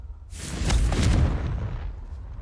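A Confringo fire spell explosion in Hogwarts Legacy: a single sudden blast that swells into a broad roaring burst, then slowly fades over a couple of seconds, with no talking.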